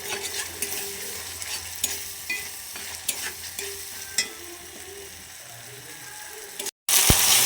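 A spoon works ginger garlic paste with green chillies in a hot pan, giving repeated scraping strokes over a soft sizzle, fairly close. A brief gap near the end is followed by a louder burst.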